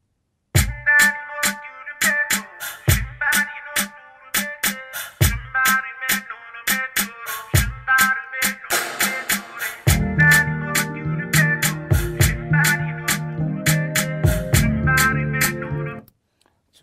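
An Indian a cappella vocal line, pitch-corrected to the song's key, sung over crisp rhythmic percussion clicks. Deeper sustained bass joins partway through.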